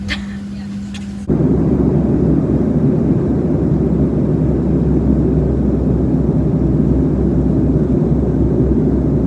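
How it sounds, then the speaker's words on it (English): Steady, loud broadband roar of an airplane cabin in flight to Florida, a constant low rumble that starts abruptly after a brief quieter moment and holds evenly throughout. "just on a plane going to Florida."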